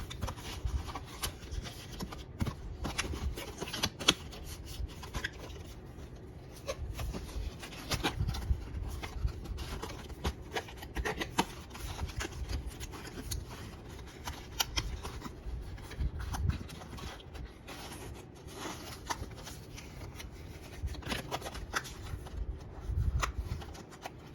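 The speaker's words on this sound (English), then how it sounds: "So just fold the edges." A cardboard storage box being folded along its edges: soft, continuous scraping and rustling of card with scattered crisp creases and taps, close and fairly quiet throughout.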